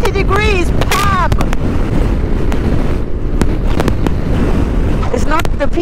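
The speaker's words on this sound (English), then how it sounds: "The wind is hitting us like 90 degrees" Strong crosswind with blowing dust roars across a motorcycle riding in Argentina, a loud, continuous buffeting wind rush that fills the whole clip, with a voice heard briefly near the start.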